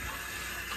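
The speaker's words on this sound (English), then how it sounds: "I've got hot water going on in the sink here." Hot water runs steadily from a kitchen sink tap while sap buckets are being cleaned, a constant close rushing wash with no breaks and no voices.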